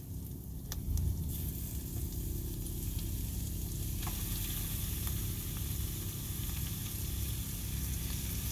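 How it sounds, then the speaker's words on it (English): Low fat beef mince frying in a hot pan gives a steady, close sizzle and hiss that holds evenly throughout, with a few faint clinks from stirring and no talking. "you chuck in your mince. So I've used, this is low fat beef mince."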